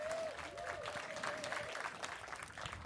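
An audience claps steadily throughout, a full round of applause with a brief tonal whistle near the start.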